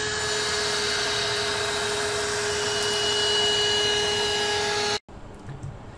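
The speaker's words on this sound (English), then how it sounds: "Here's a quick video of this car vacuum cleaner in action." A car vacuum cleaner whirs steadily at close range with a high motor whine, then cuts off abruptly near the end, leaving quiet room noise.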